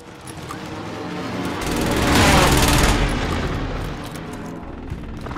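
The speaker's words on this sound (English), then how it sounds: "Be advised, friendly precision airstrike inbound." A precision airstrike in a shooter video game: a dense rumbling barrage of explosions and gunfire that swells to a loud peak midway, then fades back to steady battle noise.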